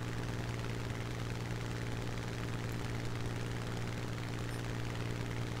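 A P-38G fighter plane's engines drone in a flight combat video game, a loud, steady, unbroken propeller roar with a low hum underneath throughout.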